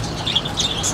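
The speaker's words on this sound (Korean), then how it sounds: "앵무새, 맞네." Parrots at the Cheonggyecheon pet market in Seoul give brief, high-pitched chirps and squeaks, several scattered quick calls over a constant background hum.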